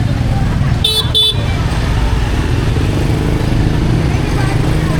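Two short horn toots sound close together over a constant rumble of road traffic in Hanoi, with faint voices in the background.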